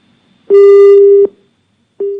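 A telephone busy tone sounds after a call is cut off: one loud, clear beep lasting under a second, a short silence, then the next beep starts, with nothing else heard.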